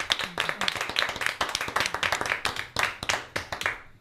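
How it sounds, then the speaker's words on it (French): A small audience claps for the artist Laurent Valère, a brisk patter of close handclaps from a modest crowd lasting the whole moment and thinning toward the end. "On peut l'applaudir bien fort."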